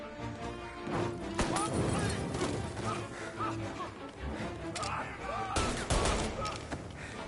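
Video game gunfire rattles in dense bursts and sharp single shots, loud and close throughout, with voices shouting over the shooting.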